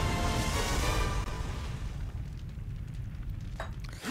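Explosion in the video game Onimusha: Warlords, a loud broadband boom that swells at the start and decays into a long rumbling tail with a few faint crackles near the end.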